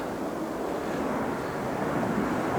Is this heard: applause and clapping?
no